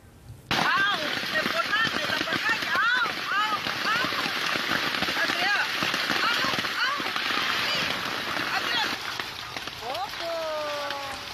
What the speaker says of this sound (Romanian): Ploaia cu grindină a durat doar 30 de minute, dar a făcut pagube semnificative